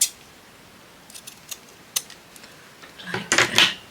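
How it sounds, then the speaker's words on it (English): Scissors snip a small piece off paper during a shabby-chic craft project, giving a few quiet, close, crisp clicks spread out in time, then a brighter cluster of cuts and rustling at the end. "Let's just snip this little bit off."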